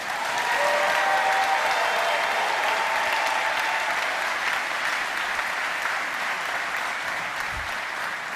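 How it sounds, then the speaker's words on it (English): A large audience at an international robotics competition final gives a sustained round of applause to welcome a speaker, dense and loud at first, then easing off gradually. "And please greet him with a huge round of applause"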